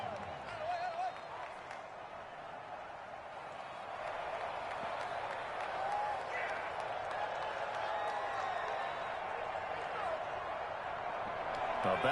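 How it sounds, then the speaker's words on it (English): Stadium crowd in a Madden football video game on PS5, a distant steady murmur of cheering and applause that swells slightly partway through, with faint whistles and tones layered over the broadcast-style ambience. "The crowd may be losing just a little bit of the edge after back-to-back punts"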